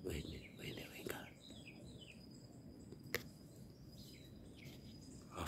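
Birds call from hidden spots in trees during a hunting outing, with faint, scattered chirps and trills in the distance and quiet whispering voices in the foreground.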